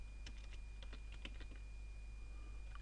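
Quiet computer-keyboard typing of a Minecraft map name, a short flurry of light key clicks over a low steady hum, then fading to the hum alone.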